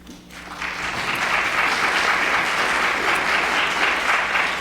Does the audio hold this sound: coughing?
no